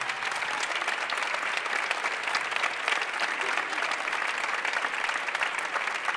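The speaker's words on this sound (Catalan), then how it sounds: "Jaume, Rosa, Roser, un aplaudiment per a ells, per favor." A theater audience at a school production of Les Misérables claps continuously, a steady, even roar of many hands with no pauses, heard from within the crowd.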